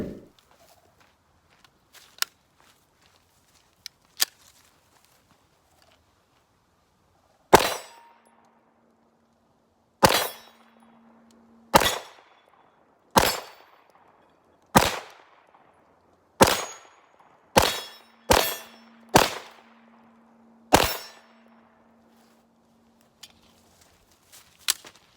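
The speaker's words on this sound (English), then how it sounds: "We're gonna be doing a couple of shots on the steel targets." Kimber Rapide Black Ice 9mm handgun shots ringing off steel targets outdoors, about ten sharp loud reports spaced a second or two apart, several followed by a lingering metallic ping, with quiet gaps between.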